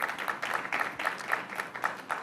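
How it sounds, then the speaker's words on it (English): Faint, thin applause from an audience at a Ministry of ICT and Google partnership launch event, a scattering of distinct claps pulsing unevenly for a couple of seconds. "can we just give them a round of applause?"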